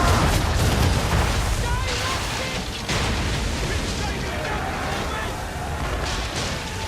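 Ship cannons fire a broadside in Assassin's Creed III, a dense roar of overlapping booms and rumbling blasts filling the whole stretch, loud and continuous, with crew voices shouting over the gunfire.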